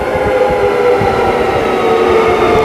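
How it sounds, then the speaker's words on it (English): A train rumbles steadily into a station, a loud continuous low roar with a faint rhythmic rattle of wheels, close by. "The train is just coming in now"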